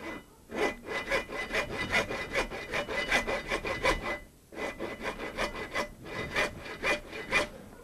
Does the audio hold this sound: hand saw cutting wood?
yes